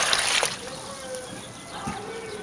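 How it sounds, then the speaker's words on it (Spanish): Clean water splashes onto soaked nixtamal corn in a tray, a loud pour at first, then softer sloshing and trickling, with a voice speaking over it. "Ahora le voy a poner un poco de agua limpia."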